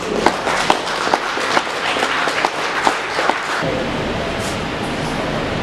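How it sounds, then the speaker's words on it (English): Audience applause greets Adam Filetti, a guest from Standing Rock at a Madison rally, with scattered claps over steady crowd noise that fades into a broad wash of room sound. "So if we could give a round of applause for Adam."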